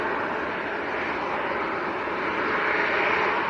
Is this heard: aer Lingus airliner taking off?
yes